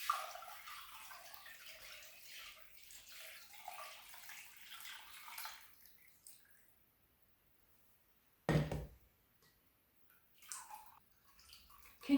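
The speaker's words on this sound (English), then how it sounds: "Now I'm going to pour the broth through this sieve." Bone broth is poured through a sieve in a kitchen. A soft, fairly quiet liquid trickle fades out, then a short splashing burst and a few faint drips follow.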